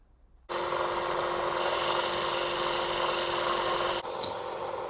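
Rough opal being domed on a 600-grit lapidary grinding wheel, a steady whirring grind with a rasping scrape that starts abruptly, holds continuous and close, then briefly dips near the end.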